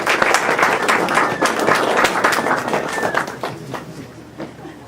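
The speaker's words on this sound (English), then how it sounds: "Round of applause." An audience at a GeoDC meetup talk applauding, a dense burst of many hands clapping close and loud, tapering slightly toward the end.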